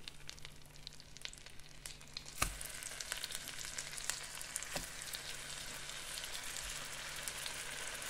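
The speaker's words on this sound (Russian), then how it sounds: "а теперь мы мандарины жарим. Выкладываем на сковородку." Steady crackling sizzle of mandarin slices frying in a hot pan, with occasional louder pops and a faint low hum, no voices.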